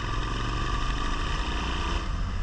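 A Suzuki SV 650 motorcycle restricted to 34 hp pulls from low revs around 2500 rpm, giving a loud, steady, deep engine drone with a throbbing, tractor-like pulse and no speech over it.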